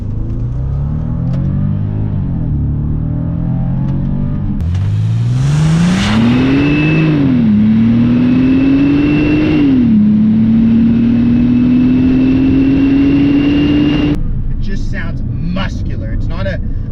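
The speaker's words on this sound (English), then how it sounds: "that noise is being generated from a W12 6-liter twin turbocharged engine" The 6-liter W12 twin-turbo engine of a Bentley GTC revs hard and close, its pitch climbing in surges and dipping between them, then cutting off abruptly near the end.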